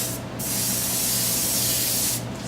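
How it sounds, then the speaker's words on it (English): A spray bottle hisses a steady, close mist of paint-protection liquid onto a table, one continuous burst of about two seconds with brief quieter edges. "Spray a little out on the table there so we don't get run off."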